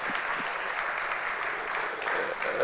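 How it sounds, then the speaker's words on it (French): An award ceremony audience applauds steadily for a trophy winner, the clapping sustained, even and moderately distant throughout. "On applaudit."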